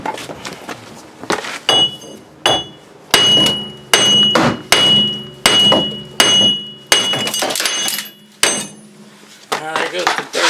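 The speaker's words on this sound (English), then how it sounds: "So now we'll go for the big hammer." A big hammer strikes a seized wheel hub, about a dozen sharp heavy blows in an uneven rhythm, each with a bright metallic clang and short ring.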